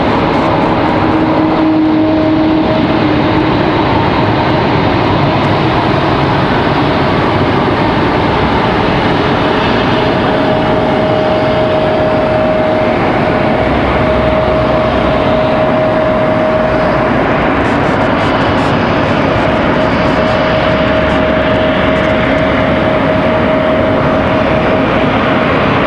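An Airbus A220 airliner at Raleigh-Durham airport gives a loud, sustained jet roar with a steady whining tone, continuous and close, heard alone without talk.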